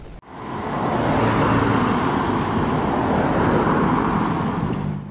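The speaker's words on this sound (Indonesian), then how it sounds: "Volume kendaraan yang melintasi jalan nasional lintas Sumatera ini terus meningkat, baik sepeda motor maupun mobil." Steady roar of motorcycles and cars on the busy Jambi–Palembang national highway during the post-holiday return rush, a continuous loud wash of engines and tyres with no pauses.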